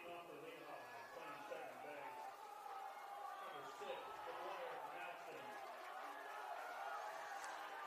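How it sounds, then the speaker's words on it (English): Crowd noise at a high school 5A baseball tournament game between Bountiful and Lehi, a steady murmur of chatter and shouting from many spectators, faint and distant throughout. "Crowd is rowdy tonight"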